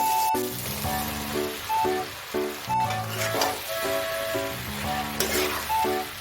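Okra (ladies finger) hits a hot pan with softened onion and tomato, giving a steady crackling sizzle with stirring scrapes, while background music plays along throughout.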